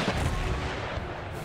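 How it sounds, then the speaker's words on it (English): Artillery booms in Empire Total War amid a battlefield din, with heavy low rumbling shots rolling close together over a dense, loud bed of noise. "That's who my artillery is shooting at."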